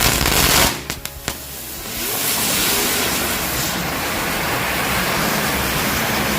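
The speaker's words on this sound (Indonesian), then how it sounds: "Itu dia hasil dari mercon gangsing satu pak." A pack of spinning firecrackers goes off at once: a few sharp pops, then a long loud roaring hiss of fizzing sparks that holds steady to the end.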